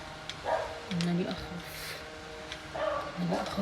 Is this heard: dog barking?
yes